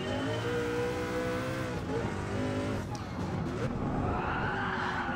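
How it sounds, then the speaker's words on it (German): A Sauber C9 race car in Gran Turismo Sport roars loudly and continuously, the engine note climbing and dropping through gear changes, with a brief tire-squeal texture partway through. "sondern man fährt hier mit einem Sauber C9"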